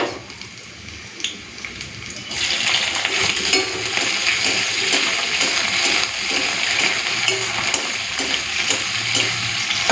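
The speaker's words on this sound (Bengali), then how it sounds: "চিংড়ি আর রসুন পুরো লাল লাল করে ভেজে নিয়েছি" Shrimp and garlic frying in a hot pan, a quiet start that jumps at about two seconds into a loud, steady sizzle with scattered pops and crackles that run to the end.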